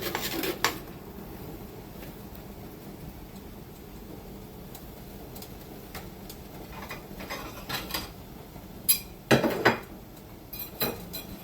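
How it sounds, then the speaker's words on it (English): Whisk clinking against a pot while stirring corn cob jelly mixture, faint irregular metallic taps that grow busier and louder toward the end. "So I'm going to give it a good whisk."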